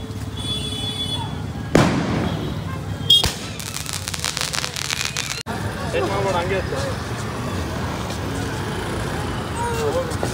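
Loud Diwali firecracker bursts crack out nearby outside a shop, including a couple of sharp bangs and a rapid crackling string, amid street noise and people talking.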